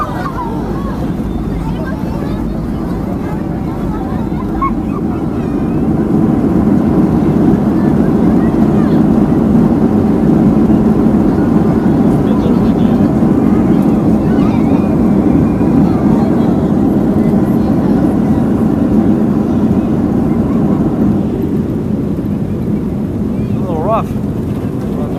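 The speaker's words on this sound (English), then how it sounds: "Well, the worst landing I've had." Airliner touching down on the runway at Mexico City in a rough landing, heard from inside the cabin as a steady loud roar of engine and rolling noise that swells partway through and holds, with no talk over it.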